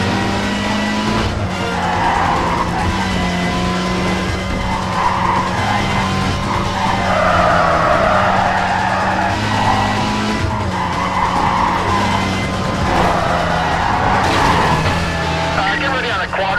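Cars drift with sustained tire squeal through a Need for Speed Carbon drift course during a police pursuit, engines loud and continuous throughout, with radio-style voices talking over the action.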